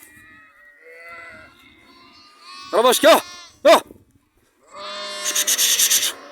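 Sheep and young lambs on a farm give several loud, wavering bleats, two strong calls close together and then a longer stretch of overlapping bleating, with a man calling to the animals between them.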